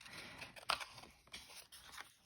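Scissors cutting paper while making a notebook folio: a few short crisp snips and crunches at close range, quiet and irregular.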